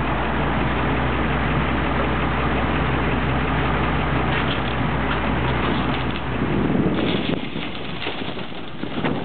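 A GMC pickup truck idles close by with a loud, steady low rumble that runs the whole time. Birds coo faintly in the background.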